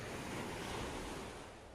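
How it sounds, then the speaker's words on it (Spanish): Gentle ocean waves wash onto a seashore in a steady, soft, broad rush of surf with a breezy hiss, continuous and close, with no voices. "Escuchas el sonido suave de las olas."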